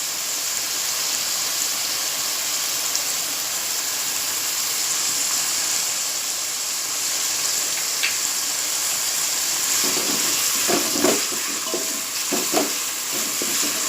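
Salted onions frying over full heat in oil until light golden, a loud, steady hiss of sizzling throughout, with a cluster of stirring scrapes and pops near the end and no talking.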